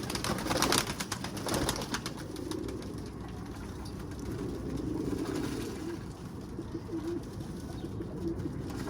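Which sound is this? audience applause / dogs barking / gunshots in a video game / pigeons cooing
pigeons cooing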